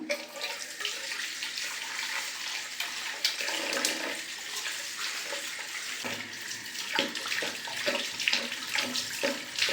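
Water pours and splashes steadily while silver anklets are cleaned, a continuous close rushing wash lasting throughout with small shifts in flow and no talking.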